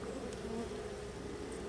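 Honey bees buzz steadily and close during a hive inspection, a dense continuous droning hum with occasional louder individual passes, no speech.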